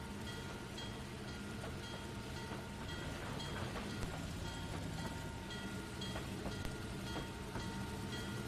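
A long freight train with many tank cars rolls along the track in the Trainz 2019 railroad simulator, giving a steady, low rumble with faint wheel clicks and no talking.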